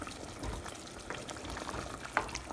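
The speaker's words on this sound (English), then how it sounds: "turned the flame on at high, and I'm gonna just cook it for a few minutes" Chicken korma simmering on a high flame in a covered pot, a steady soft bubbling and sizzling texture with a faint clink near the end and no voices.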